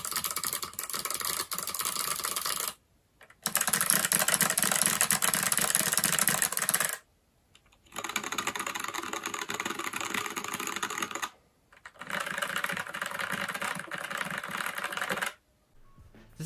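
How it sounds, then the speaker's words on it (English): Typing on a Wyse WY60 keyboard converted with hot-swap sockets and Box Jade and Otemu Sky mechanical switches, heard as rapid, clicky keystrokes in four steady runs separated by short silences. "here are some more switch sound comparisons"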